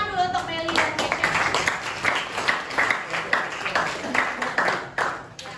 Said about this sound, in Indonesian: Tepuk tangan dulu untuk Meli dan Keisha